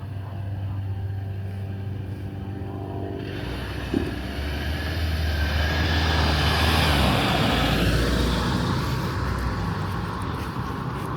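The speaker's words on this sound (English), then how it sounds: "We're gonna wait for this car to go by." A car approaches and passes by nearby on a night street, its engine and tire noise swelling into a broad rushing roar over steady outdoor background hum.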